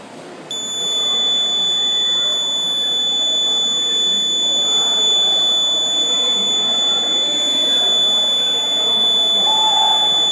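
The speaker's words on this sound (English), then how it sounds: "So we are now going to wait until it alarms." A water level sensing digital alarm clock sounds its alarm, a steady high-pitched electronic buzz that starts after half a second and holds loud and continuous to the end, with faint room noise beneath.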